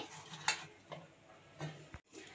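A peeled whole coconut is set down into a mixer jar, giving a few soft knocks and clatters spaced apart, fairly quiet, with no talk.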